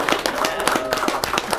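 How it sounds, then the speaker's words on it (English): An audience at a public meeting claps for a parish employee retiring after 42 years, sharp, close claps in a quick, steady rhythm. "I know everybody's clapping"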